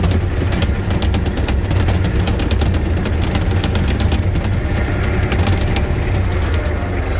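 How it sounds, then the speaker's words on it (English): Loose plexiglass rattles steadily inside a snowplow cab as the engine runs, a dense continuous clatter over a low engine rumble from start to finish, with no talking. "The rattling noise you hear is the plexiglass."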